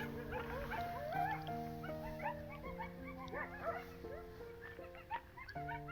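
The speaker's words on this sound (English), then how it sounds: "Yeah, the coyotes are fairly close." Coyotes call close to a campsite on a crisp morning, with overlapping yips, howls and whimpering wails in a continuous chorus that rises and falls.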